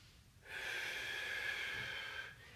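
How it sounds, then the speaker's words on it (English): A deep breath drawn in during a guided shoulder and upper-neck workout, one long airy inhale lasting about two seconds, close and steady, with no talking. "Taking in one more deep breath for me."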